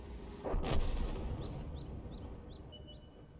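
A tank destroyer's main gun fires once in a World of Tanks-style game, a loud boom with a rolling tail, followed by a series of faint, evenly spaced chirping tones.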